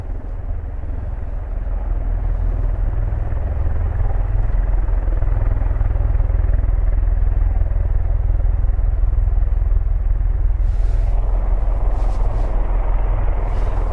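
Aircraft engines powering up at an airfield: loud, steady engine roar with heavy low rumble, rising slightly in intensity, plus a few brief hissing bursts near the end.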